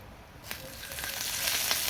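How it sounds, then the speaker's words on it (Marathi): Onion roasting in a pan for a black masala mutton, starting with a soft sizzle that swells into a steady, fairly faint crackle after a short quiet moment, with a couple of light scraping touches and no talk. "कांदा असाच भाजायचा आहे आपल्याला"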